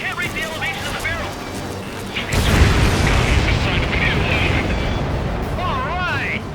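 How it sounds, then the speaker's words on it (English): A rail cannon blows up in the Ace Combat 7 flight game, a sudden deep booming blast that rolls on as a loud rumble, while radio voices chatter over the top before and after. "Confirming explosions. The rail cannon's been destroyed."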